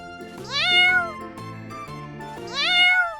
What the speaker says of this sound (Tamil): பூனை எப்படி கத்தும்?